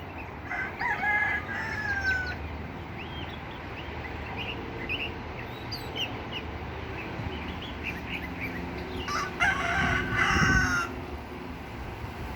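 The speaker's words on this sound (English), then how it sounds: "the little birdie that's making all that fun racket noise" Birds call outdoors in a garden, with shrill sliding whistles and a crowing-like call rising over a steady background hum, clearest near the start and again later.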